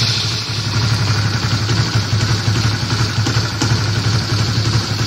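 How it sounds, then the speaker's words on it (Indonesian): A Honda CB150R motorcycle fitted with a keyless, voice-command ignition idles close by, a steady low throbbing engine note with light mechanical clatter and no talking. "Hidupkan motor."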